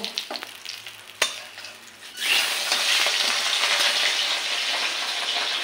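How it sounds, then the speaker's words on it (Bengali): Fish fries in hot oil in a pan, starting with a few clinks and light sizzling, then swelling into a loud, steady, close crackling sizzle that holds to the end. "এই দেখো মাছ ভাজাটা আমি তুলে নিচ্ছি।"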